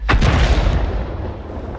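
A single tank cannon blast from the World of Tanks Blitz video game, a sharp close boom with a quick double crack at the start and a rumbling tail that fades over about a second and a half.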